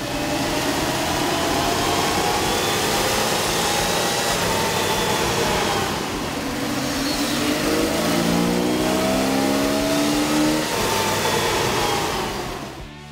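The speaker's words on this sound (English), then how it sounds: "With the air intake installed, we ran the vehicle on the dyno to test the sound comparison versus the stock intake." A 1997 Jeep Wrangler's 4.0-liter engine with a K&N air intake revs repeatedly on a dyno, its steady droning roar rising and falling in pitch over a constant loud hum, with no voices.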